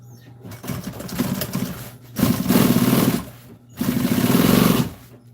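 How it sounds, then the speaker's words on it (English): Sewing machine top stitching the upholstery on an old military jeep seat, three bursts of steady rapid whirring and clatter separated by short pauses, loud and close. "put me a top stitch on it"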